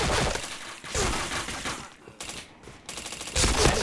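Rapid bursts of gunfire come from a shooting video game, loud, close and dense. Brief gaps separate the volleys, and a final burst swells at the end.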